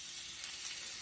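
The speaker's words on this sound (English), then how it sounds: "Hear that sizzle." Frozen chicken breast sizzling on a double burner grill, a steady bright hiss and crackle at moderate level, heard alone.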